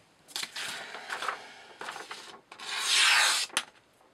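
A freshly whetstone-sharpened Morakniv Companion MG knife slicing with a few scraping, rasping strokes, the longest drawn out and louder, close up with short pauses between.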